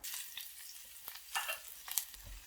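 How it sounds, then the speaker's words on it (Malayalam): Small onions frying in ghee in a pan, a faint crackling sizzle with a few stirring scrapes and soft clinks over about two seconds, quiet and close with no talking. "കുറച്ച് ചെറിയ ഉള്ളി വറുത്തിടാം."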